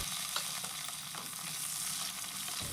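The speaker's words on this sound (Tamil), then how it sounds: "பூண்டும் சின்ன வெங்காயமும் சேர்த்து நல்லா வதக்கி எடுத்துக்கோங்க" Garlic and shallots sauté in sesame oil, filling the clip with a constant bright sizzle broken by faint stirring scrapes, close and without any voices.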